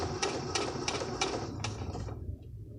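A sewing machine stitching an invisible zipper runs in a steady mechanical chatter with a few sharper periodic clacks, close and moderately loud, then stops abruptly near the end.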